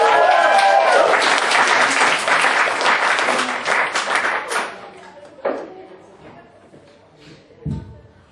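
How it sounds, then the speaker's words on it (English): At a comedy club, the audience breaks into loud, close applause that holds for about four seconds, then thins into scattered claps, shuffling and a couple of thumps as the room settles, with some voices mixed in. "I want you to all clap for Maddie Howard."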